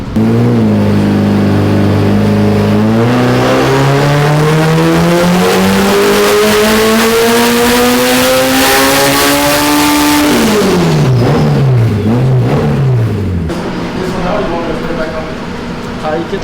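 A budget turbocharged Honda engine on a dyno pulls a long rising rev, loud and sustained, then drops off with lumpy fluttering and backfire-like crackles as the throttle closes. A voice talks underneath.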